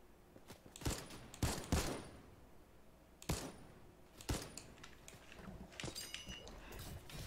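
Pistol gunfire in Fortnite, sharp bursts of shots in quick pairs and singles spaced across the stretch, fairly close and punchy over a quiet game background.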